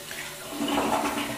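A toilet flushing into the bowl during a water-seal level test, a steady rushing water sound that swells louder midway and continues, close and without talk.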